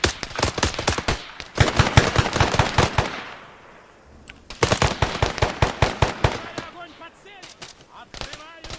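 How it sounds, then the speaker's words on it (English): In ARMA 3, rapid machine-gun bursts rattle in long volleys with a pause between them, while grenade strikes boom in the distance; loud, dense combat that thins into scattered shots toward the end. "Oh, lots of grenade strikes going on right now."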